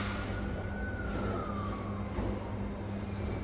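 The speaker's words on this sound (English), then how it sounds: "Shut up, ambulance." An ambulance siren sweeps past as a single falling wail, moderately distant, over a steady low rumble of traffic, with no talking.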